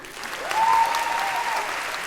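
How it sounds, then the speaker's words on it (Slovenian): Audience applause at a school event, a steady wash of clapping that swells briefly early on and then holds at an even level, with a thin sustained tone running through the middle. "Lahko date aplavz, ja."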